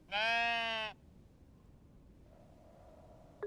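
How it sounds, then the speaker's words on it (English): A single loud, close sheep bleat from the video game Tiny Glade, lasting about a second, then quiet with a faint soft tone and a brief click at the end. "We have a sheep."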